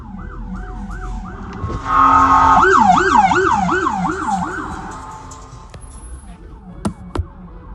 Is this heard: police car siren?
yes